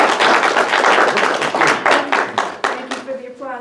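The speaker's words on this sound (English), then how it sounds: "Let's have a round of applause." Applause from a small Unitarian gathering on May Day, a close, uneven round of clapping that thins into a few scattered claps before a voice starts speaking.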